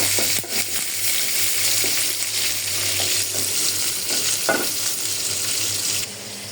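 Pointed gourd and other vegetables frying in a pan make a constant, fairly loud sizzle with scattered scrapes and knocks from stirring, over a low steady hum, and no one speaks.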